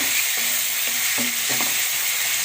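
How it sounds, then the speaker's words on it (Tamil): Ingredients for pepper chicken sauté in a hot pan, giving a loud, steady sizzle with a few brief stirring scrapes. No voices are heard. "இது ஒரு பக்கம் வதங்கட்டும்"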